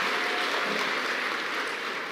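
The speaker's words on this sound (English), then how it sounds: "Please give him a round of applause." Audience applause at a political anti-crime town hall meeting in Chaguanas, a dense, steady wash of clapping that stays even and loud throughout.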